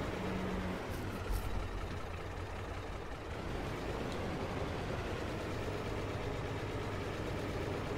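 A tractor engine in Farming Simulator 22 idles and runs steadily, a constant close, even rumble that holds throughout with no voices.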